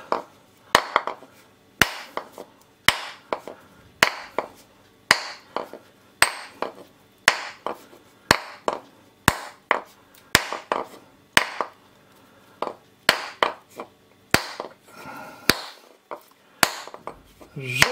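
A hammer taps repeatedly around a frozen coconut, giving sharp, close knocks in an uneven rhythm of single and doubled strikes with brief pauses between them and no talk.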